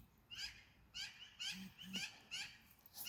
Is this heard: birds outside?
yes